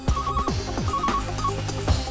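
Electronic telephone ringback tone on an outgoing call, a short repeating warbling pattern heard clearly over a low background rumble, with no one speaking.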